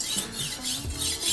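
A dull knife is drawn over a rolling knife sharpener, giving a short, soft, raspy rubbing and grinding sound over about a second, close by and alone.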